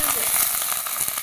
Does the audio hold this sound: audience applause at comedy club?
no